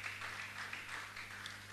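A church congregation claps together in steady, faint applause, a soft continuous patter heard from a distance.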